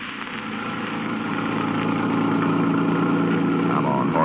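A car engine idles and runs steadily as a radio drama sound effect, a continuous low hum that swells slightly and then holds even, with a voice faintly present.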